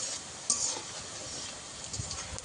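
Nimki frying in oil on a low flame, a soft continuous sizzle with light stirring scrapes and an occasional faint clink from the utensil.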